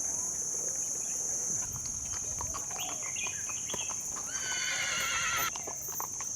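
Horse on a beach ride at Krabi, neighing and whinnying with hooves clip-clopping, heard up close over a steady high insect or bird drone, with brief bird chirps.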